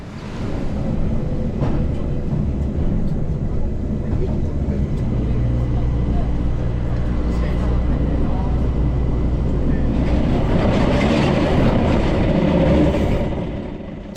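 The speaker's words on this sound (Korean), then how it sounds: "산악열차에 탑승해 바깥 풍경을 바라보며 환승 지점으로 내려갑니다" A mountain railway train descending through Alpine scenery near Grindelwald rolls along with a steady low rumble and rattling, continuous throughout and building slightly louder near the end.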